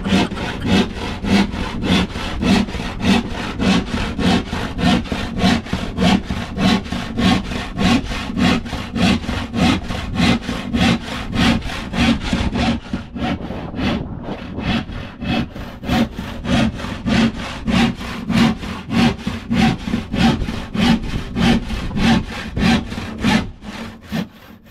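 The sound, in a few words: hand saw cutting wood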